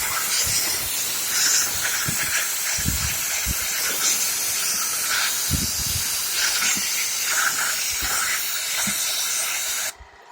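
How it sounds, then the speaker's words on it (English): Compressed air hisses steadily into the inside of a Ridgid wet/dry shop vac motor dusted with pellet stove soot, a loud continuous blast with short bursts and rattles, cutting off abruptly near the end. "I'm going to blow out inside here of the motor."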